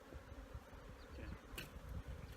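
Honeybees buzz during the installation of a nuc hive, a faint, steady, close insect drone that continues throughout with small rises and dips and no voices.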